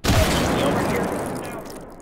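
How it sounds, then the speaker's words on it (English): A directed explosive blast in the virtual reality game H3VR hits hard at the start and rumbles on, decaying slowly over about two seconds. "I still get hit because it's kind of a directed explosion"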